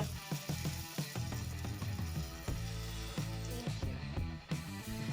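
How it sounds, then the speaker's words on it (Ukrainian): Food sizzling and crackling in hot oil while being fried for a Turkish dish, a steady close hiss with brief spattering pops and soft stirring knocks throughout. "продовжуємо обжарювати."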